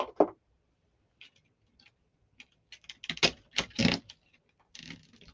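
Zip tie ratcheted closed around a daisy chain flower wreath, a few quick clicking bursts with a longer run of rapid ticks near the end, close and otherwise quiet.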